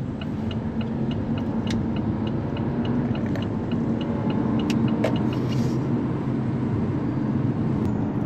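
A 2024 Jeep Compass with 200 horsepower being driven, a steady low engine and road rumble filling the cabin, loud and continuous with faint ticking and no talk.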